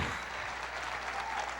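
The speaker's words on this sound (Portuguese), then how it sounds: "Pode aplaudir o Senhor de eu creio." Church congregation applauds during a sermon, a soft, distant wash of continuous clapping with a low hum beneath, brief and faint.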